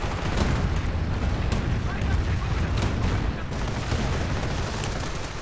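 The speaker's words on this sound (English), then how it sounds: "Another Calliope barrage though opening up." A Calliope rocket barrage fires during a World War II strategy game match, producing a dense, continuous roar of launches and explosions throughout, with a commentator's voice running over it.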